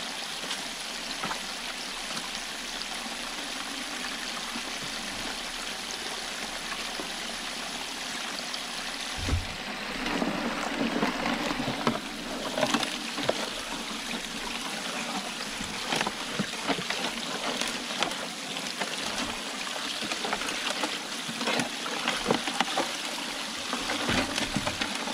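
Water washes continuously through a highbanker sluice set up for gold prospecting, a steady rushing and splashing flow with a few louder gurgles and knocks partway through, and no voices.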